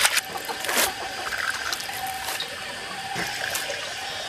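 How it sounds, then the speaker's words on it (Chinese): Running water from a tap splashes steadily over wild stonecrop greens being rinsed, with brief louder gushes and handling splashes throughout, close and alone. "给冲水洗一下"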